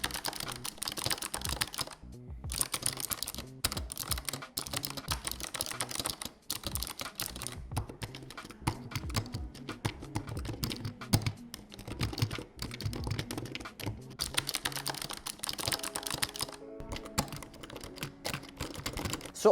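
Rapid clacking of keys on a Razer Huntsman Mini 60% mechanical keyboard, continuous bursts of typing with a few brief pauses, close and crisp.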